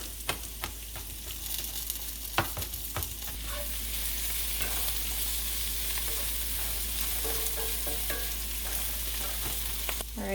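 Crushed garlic sizzles steadily in a hot pan. Its frying hiss is close and loud and lasts throughout, with a few clicks and scrapes of stirring near the start.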